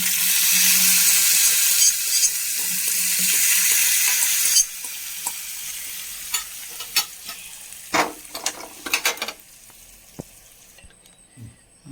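Hot tempering hits gooseberry pachadi with a loud, dense sizzle that hisses for several seconds, then dies down into scattered spoon clinks and scraping against the vessel.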